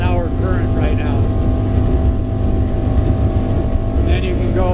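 A 2020 North River 21-foot Fastback motorboat runs at speed near 5,900 rpm, a loud, steady engine drone with water and wind rush throughout, and a voice briefly talking over it.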